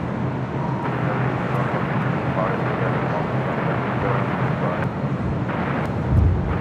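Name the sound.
Boeing 787-9 Dreamliner arriving at LAX airport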